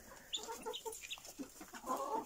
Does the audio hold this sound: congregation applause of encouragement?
no